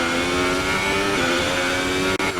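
Formula 1 car engine held at a steady, loud, high-pitched whine with strong harmonic tones, with a brief sharp cut near the end like a gear change under braking and throttle.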